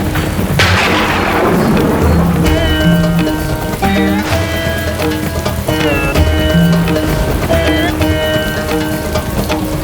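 Loud thunder rumbles over steady rainfall before a coming downpour, mixed with sustained musical tones throughout.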